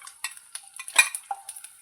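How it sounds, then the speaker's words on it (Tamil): Garlic and onion are sautéed in a pan, with soft sizzling and a series of spaced scrapes and clinks from a spoon stirring against metal, close and fairly quiet, with no voices. "இப்போ நம்ம அதில் எடுத்து வச்சுருக்க பூண்டையும் வெங்காயத்தையும் சேர்த்து நல்லா வதக்க போகிறோம்."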